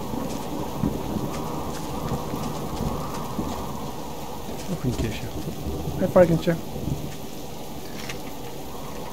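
Steady rain patters through a thunderstorm in the survival video game Subsistence, with a low roll of thunder rising midway; people talk casually over the storm.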